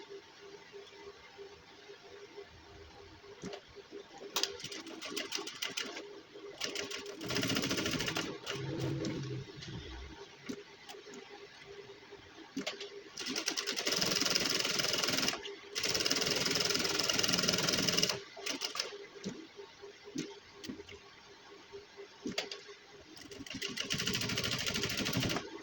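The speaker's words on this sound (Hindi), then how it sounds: "अब हाफ बूट पैर की यहाँ पे सिलाई लगाएंगे हम" An electric sewing machine runs in repeated bursts while stitching a double-stitched gents suit, a mid-loud motor whir starting and stopping with clicks and handling noise between runs.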